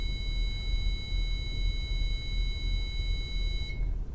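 An electronic device gives a long, steady, high-pitched tone during a backstage ghost-hunting session. The tone holds over a low background rumble for several seconds, then cuts off just before the end.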